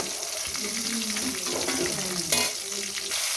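Fish frying in oil in a pan, a dense steady sizzle up close with faint stirring and a brief sharp clink near the end, no voices.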